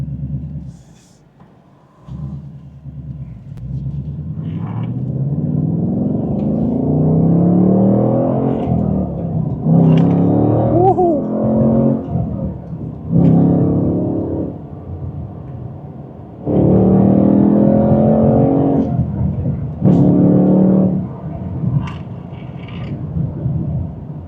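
A 2025 Ford Mustang Dark Horse engine rumbles and revs repeatedly while driving, rising and falling in pitch with several loud acceleration bursts, close and without talk.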